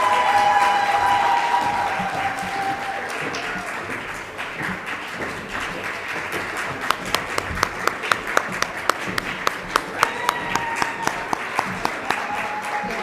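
A large crowd keeps applauding debate teams at a public sector debate grand final, a sustained dense wash of clapping with some cheering, while a few louder distinct claps punch through in the second half.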